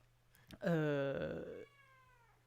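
A cat gives one long, clear meow, drawn out and falling slightly in pitch toward the end, close to the microphone over a faint steady hum.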